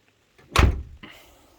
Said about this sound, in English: Door shuts nice, over gaps are nice.